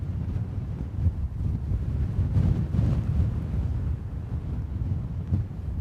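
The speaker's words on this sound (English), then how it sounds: "because now the wind's really picked up" Strong gusty wind buffeting the microphone at Heathrow Airport beside runway 09L, a loud continuous low roar with rumbling surges and no voices.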